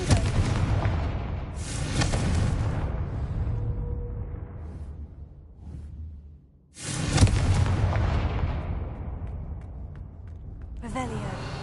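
Blasting spell cast in the Hogwarts Legacy video game, heard as booming explosive bursts with broadband crashes near the start and again after a brief quiet dip, loud against continuous game ambience.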